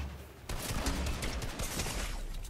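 Rapid SMG bursts fire in a Fortnite match, aimed at a bush: a dense fusillade of close, crackling shots that starts abruptly and continues for about two seconds, fairly quiet overall, with no voices.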